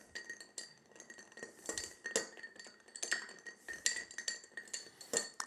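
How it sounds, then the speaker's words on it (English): Bar spoon stirring a Guinness Old Fashioned over ice in a glass, quick repeated clinks and chinks of ice and metal against glass in an uneven rhythm, close and fairly quiet, with no talking. "we're going to stir this to chill it. And we're going to give it about 15-20 twirls around in there."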